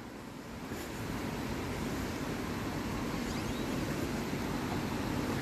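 Gold Brook runs beneath a covered bridge in Stowe, Vermont, a continuous, even rush of flowing water that stays steady and fairly soft throughout.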